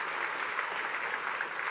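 Audience at Frontier Expo 2017 clapping, a dense, steady wash of applause from a crowd for a couple of seconds, without speech.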